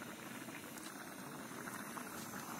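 Khichdi simmering in a pot over a campsite fire, a steady, soft bubbling hiss that holds even and unbroken throughout, with no voices.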